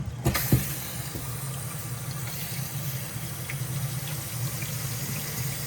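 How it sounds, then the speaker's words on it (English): Water runs from the bathroom sink faucet of a used 2021 Keystone Springdale 253FWRE fifth-wheel RV, a soft, steady stream hissing faintly after a couple of brief knocks as the tap opens. "Getting hot and cold water."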